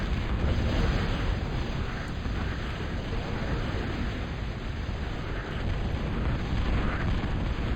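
Bombing run in a real-time strategy game on the Crystal Maze map: a loud, sustained roar of explosions that rumbles on without a break for several seconds.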